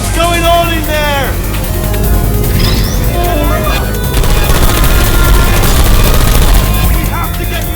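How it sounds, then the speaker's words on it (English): Rapid gunfire bursts from the video game Portal 2 crackle loudly and continuously, mixed with crashes and game noise, while voices speak over the din. "I heard gunfire!"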